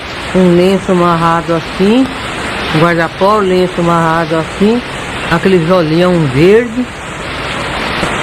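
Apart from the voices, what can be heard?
heavy rainstorm outside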